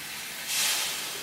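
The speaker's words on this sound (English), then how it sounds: "so it get a little steam around it." Water splashed into a hot pan hisses up into a brief burst of steam, a soft close sizzle swelling midway and then settling to a steady hiss.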